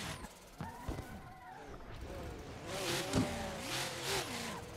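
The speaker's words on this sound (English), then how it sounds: "That car is so loud." A loud race car engine in a racing video game revs and roars, rising and falling over the run with a sharp knock partway through, while a person talks over it.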